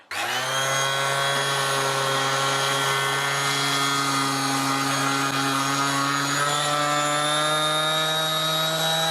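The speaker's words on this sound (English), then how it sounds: "what I'm going to do is sand this door frame, see how I get on" A DOVAMAN DLS03A detail palm sander runs against a painted door frame, a loud, steady motor whine with a strong buzzing hum that shifts slightly in pitch partway through as pressure changes.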